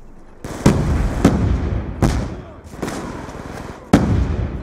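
Several grenade explosions go off in the Black Ops 2 video game, each one a sharp heavy blast with a rumbling tail. About five come at irregular gaps over continuous combat noise.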